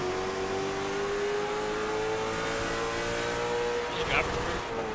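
A race car engine in a Martinsville Speedway racing game drones steadily at high revs, a sustained whine with a brief sharper squeal near the end, loud and continuous, while other cars hum faintly beneath.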